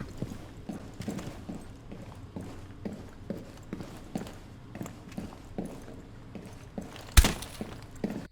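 Running footsteps in the Rainbow Six Siege video game: a steady, evenly spaced run of fairly loud footfalls, about two per second, ending with a sharp crash-like impact near the end.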